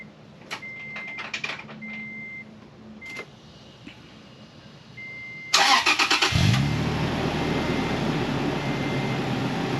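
Toyota FJ Cruiser with a newly installed Borla exhaust starting up: a series of chimes and clicks, then the starter cranks and the engine catches into a loud, steady idle rumble.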